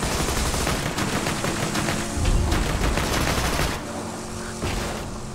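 Sustained machine gun fire from Borderlands 2, a dense continuous stream of rapid shots with booming impacts, loud and close, briefly thinning toward the end without any speech.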